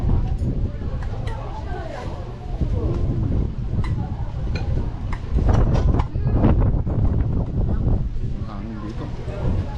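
Wind rushes across the microphone along the East Coast bike path in Busan, a continuous low roar under people talking during the ride.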